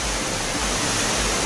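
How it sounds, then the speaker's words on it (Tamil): Floodwaters roar down Kavi Falls at Aliyar in Coimbatore, a loud, dense, unbroken rush of heavy falling water filling the whole moment with no voices. "கோவை மாவட்டம் ஆழியாறு கவி அருவியில் வெள்ளப்பெருக்கு ஏற்பட்டுள்ளது"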